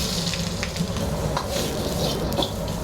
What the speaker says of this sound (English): Start off by frying the vegetables.